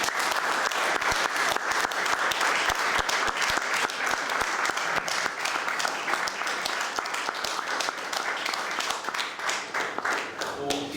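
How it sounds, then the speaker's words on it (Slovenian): An audience at a book presentation gives sustained, loud applause, with dense, even clapping that carries on for about ten seconds and tapers slightly at the end. "predlagam, da jubilanta že sedaj pozdravimo z močnim aplavzom."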